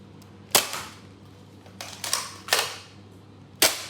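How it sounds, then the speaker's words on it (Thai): A toy Nerf blaster is cocked and fired several times, giving sharp close snapping clicks and pops at irregular intervals against a quiet background. "ให้คุณดึงไปข้างหลังจนมัน สุดแล้วแล้วมันกึกนะครับ แล้วก็ยิงอะ"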